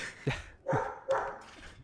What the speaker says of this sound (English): Bobby, just edit out that dog.